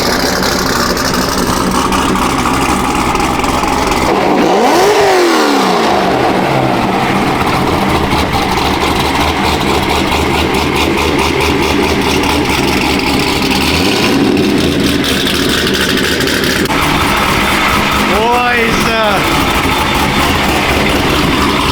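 A Chevrolet Corvette Z06 engine idles loud and close, with a deep rumble throughout, broken by several sharp revs that rise and fall, one around the start and a quicker double blip later.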